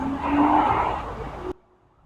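A loud vehicle drives around outside nearby, its engine roaring with a whining, tire-squeal-like edge for about a second and a half before cutting off abruptly.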